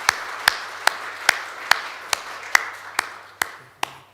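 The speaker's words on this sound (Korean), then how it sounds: "우리 큰 박수로 환영하겠습니다" A few people in a church congregation clap to welcome a visiting family during Sunday worship: a slow, steady run of about eleven distinct claps echoing in the sanctuary, moderately loud with a faint low hum behind.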